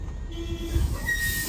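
A Disney Animal Kingdom tram starts rolling with a low mechanical rumble and a faint rising whine, steady and moderately close, with no talking.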